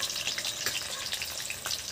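Potatoes fry in hot oil for a cabbage curry, giving a continuous crackling sizzle that stays loud and even, with faint stirring scrapes and no voices.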